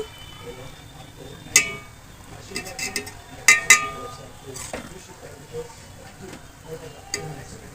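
Spices go into hot ghee in a pan while paneer biryani is being cooked, with light stirring scrapes and a few sharp metallic clinks of a spoon against the pan over a soft, faint sizzle, alongside talk.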